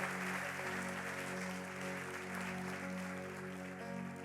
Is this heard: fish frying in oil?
no